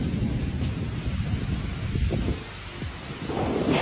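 Heavy rain roars steadily with low rumbling thunder rolling through, noisy and dense, no voices.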